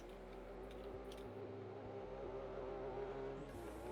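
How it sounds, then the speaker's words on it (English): A race car in a racing video game, doing burnouts on the start line at Nikko Circuit, a constant droning engine and tire roar at low level with faint higher whine, no voices. "Some lovely burnouts by the tree there"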